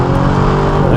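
Aston Martin DBX V8 driving, a loud, steady engine note with continuous road and tyre roar, close and unbroken, with no voices over it.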